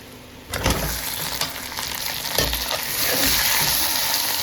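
Boneless chicken drops into hot oil for biryani and fries with a loud close sizzle, sharp crackling bursts as pieces hit the oil, then a steady, growing fry and stirring sounds, no talking.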